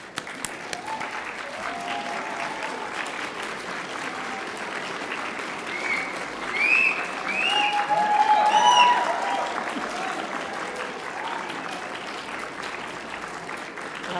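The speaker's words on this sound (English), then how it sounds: "a big round of applause" Standing graduates and guests at a university graduation ceremony in Melbourne give a long, big round of applause, steady dense clapping that swells midway, with a few cheers and voices rising above it.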